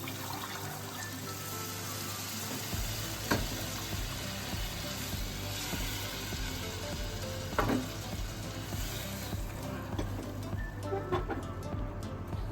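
Spiced Gujarati tuvar dal mixture sizzles steadily in a frying pan while being stirred, with a continuous frying hiss, occasional soft scrapes and clicks, and a low hum, no voices.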